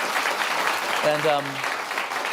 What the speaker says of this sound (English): Oh my God, what are we clapping for?